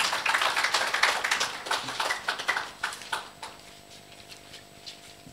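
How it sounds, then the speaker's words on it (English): Audience at the Bulawayo Investment Conference claps for a speaker, a dense burst of applause from a fairly close room that thins out and fades over the last couple of seconds. "A round of applause for Lance Nesbitt."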